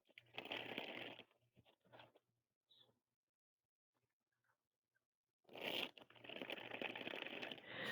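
Tarot cards being shuffled by hand: two close bursts of riffling and rustling card noise, the first about a second long, then faint handling sounds and a pause before a longer, louder shuffle.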